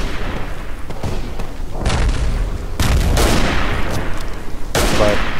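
Battlefield explosions and dense gunfire from the World War I shooter Verdun, with heavy booms and a continuous crackle of rifle and machine-gun fire building over several seconds, loud and close.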